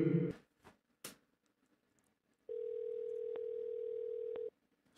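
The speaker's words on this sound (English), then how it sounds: "It's ringing again." A phone call ringing tone sounds as one steady two-second electronic tone after a few soft clicks and thumps, heard alone and fairly clean.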